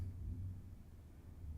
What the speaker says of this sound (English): Ooh, I hear thunder.